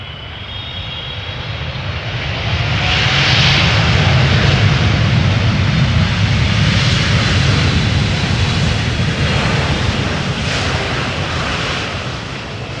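A Boeing 777-200 long-range airliner roars past nearby while arriving at Amsterdam Schiphol Airport, its engine noise swelling to a steady, heavy rumble with a high whine, then slowly easing off.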